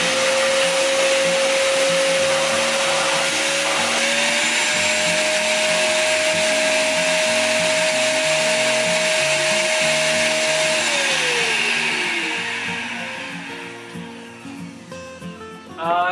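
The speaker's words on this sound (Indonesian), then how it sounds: "lumayan bising ya, standar pada umumnya untuk mesin-mesin vacuum cleaner." A Black & Decker BDWD10 wet/dry workshop vacuum cleaner runs close and loud with a steady motor whine and airy roar, shifting pitch partway through, then spinning down and fading near the end.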